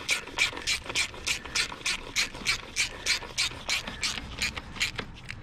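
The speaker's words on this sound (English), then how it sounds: "I'm not really torquing the bolts down, I'm just getting them down close" A hand ratchet clicks in quick, evenly spaced bursts while snugging the valve cover bolts on a 2004 Lexus ES330. The sound is close and crisp and repeats steadily, with no voices.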